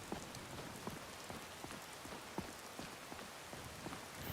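Rain falling in the video game Skyrim VR, a steady faint patter of drops hitting surfaces, continuous and fairly quiet with no voices.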